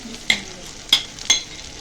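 Spoon strikes against a pot sound three times as tomato sauce is stirred into taro, sharp metallic clinks spaced under a second apart over a faint background.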